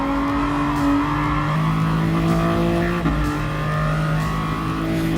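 A race car in a racing video game pulls out of the pits, its engine holding a loud, buzzy, near tone that climbs steadily, dips sharply at an upshift partway through, then climbs again. No one speaks.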